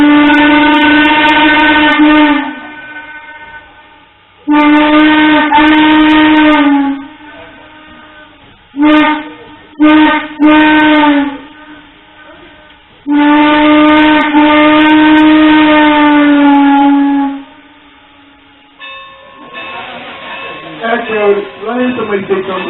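Steam locomotive whistle on the Strasburg Railroad sounds in several long, loud, close blasts separated by short toots, ending with brief clatter and murmuring voices.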